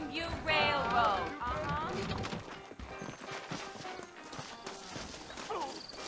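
Horse hooves clip-clop in the Red Dead Redemption video game, a soft uneven walking rhythm beneath speaking voices and a brief whinny-like sound early on.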